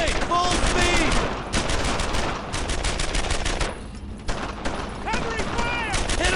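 Heavy World War II gunfire in Brothers in Arms: Earned in Blood: rapid, loud rifle and machine-gun volleys crackle in dense bursts with a short lull, mixed with battle noise and shouting.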